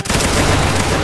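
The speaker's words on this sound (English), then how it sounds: "Aim 45 degrees up in the air. And fire." A loud, dense volley of rifle fire erupts in a video game battle, many shots fused into one sustained roar of gunfire that fills the whole moment.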